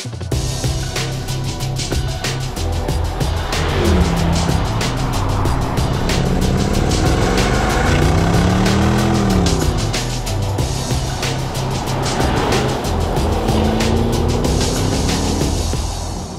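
A 2023 Land Rover Defender 90 P525 V8, short wheelbase with 386 kW, drives hard, its engine droning loud and steady while revs swell and fall in several sweeping climbs, with tyre and road noise underneath.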